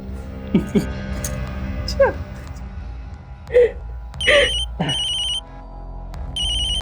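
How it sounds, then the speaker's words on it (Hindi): A phone rings in repeated electronic bursts, fairly close, with other short noises and movement sounds scattered between the rings. "अरे यार, कौन मनुष्य फोन कर रहा है?"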